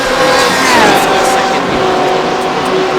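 GTE race cars at Suzuka in a racing video game, with loud engines droning steadily through the fast 130R corner, pitch sliding as cars pass close by, continuous and dense with no gaps.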